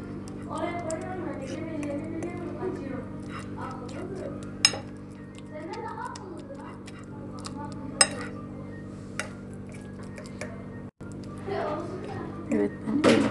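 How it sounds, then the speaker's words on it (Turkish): A spoon works through semolina breakfast for a baby, thinned with warm water, in a bowl: soft scraping and mashing broken by sharp clinks of metal against the dish, close and moderate in volume, while someone talks throughout. "Evet, ben iyice ezdim."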